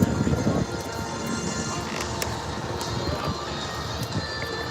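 An aerobatic competition aircraft passes over the Wings over Houston airshow, its engine a sustained drone from middle distance with crowd murmur and some speech in the background.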